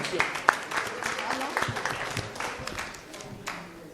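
Scattered clapping from a small crowd at a school competition quarter-final in Dakar, a few sharp claps standing out, gradually thinning toward the end.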